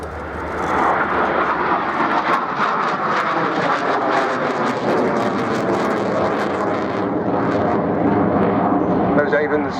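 A jet aircraft with Avon 208 engines roars loudly and close at Yeovilton Air Day. The dense, unbroken engine noise fills the whole stretch without letting up.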